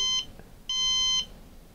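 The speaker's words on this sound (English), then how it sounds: "That was five beeps, so let's hear it again." Two bright electronic beeps from a MissileWorks RRC3 rocket altimeter, a short one followed by a longer tone, close and clear over a faint background hiss.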